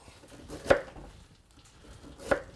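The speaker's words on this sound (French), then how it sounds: "la carotte simplement pour donner un petit goût. On va le couper en 2" A knife cuts a carrot in two on a board, two sharp chops about one and a half seconds apart, close and clear against a quiet kitchen.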